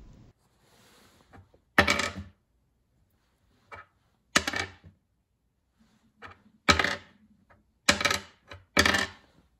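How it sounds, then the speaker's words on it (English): Objects dropped onto a resonant plywood workbench top in a workshop, giving several sharp, loud impacts with booming ring, spaced irregularly across the stretch with quiet gaps between, no talking. "when I would drop something on it, you could hear it sort of amplifying the sound of the impact"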